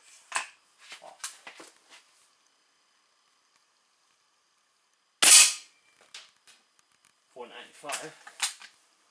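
A Weihrauch HW 80 .22 (5.5 mm) air rifle fires once with a sharp, close crack in the middle, while someone talks briefly before and after it and a few small clicks and handling noises sound around the shot.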